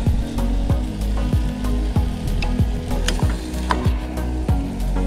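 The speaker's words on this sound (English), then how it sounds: "I have the veggies in a pot with a little bit of butter, and I'm just gonna kind of cook them a little bit." Vegetables cooking in a little butter in a pot at a car campsite, a constant close sizzle broken by about a dozen regular scraping stirs of a utensil against the pot.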